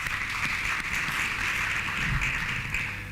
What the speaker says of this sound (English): she deserves an applause from us